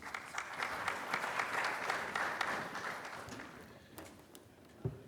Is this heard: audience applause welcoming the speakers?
yes